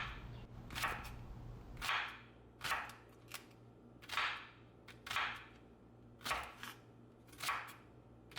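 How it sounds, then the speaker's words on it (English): A knife slices big scallions into little pieces on a cutting board, giving about nine sharp, crisp chops at a steady, unhurried rhythm, close and clear with a faint background hum and no voices. "Get a stalk of big scallions and slice it into little pieces."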